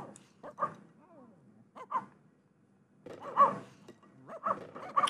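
Several dogs in the Petz 4 video game bark and yip in short bursts during a Frisbee-catching party, with quiet pauses between louder clusters of barks.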